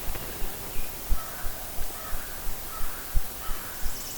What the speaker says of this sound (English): He's gobbling down the hill a little bit.